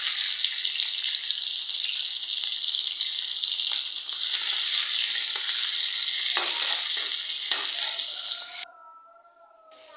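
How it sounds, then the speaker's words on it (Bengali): Onions and green chillies frying hard in a pan give a loud, dense, continuous hiss with a few soft scrapes of stirring. Near the end the sizzle suddenly drops to a faint simmer. "এখানে এই যে পেঁয়াজগুলো ভাজা ভাজা হয়ে গেছে।"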